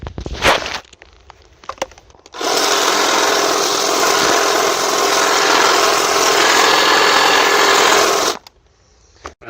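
A battery-powered tool whirs into life after a few clicks and handling knocks, runs at a steady loud buzzing drone for about six seconds, then cuts off abruptly back to quiet rustling.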